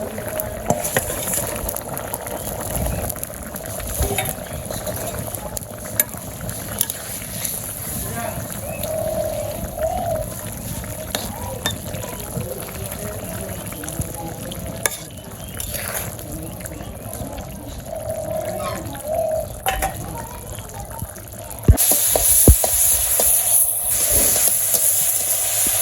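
Tilapia fish sizzle and hiss in a pan of hot oil during cooking of a tilapia curry with drumsticks, a steady bubbling crackle throughout that grows louder near the end.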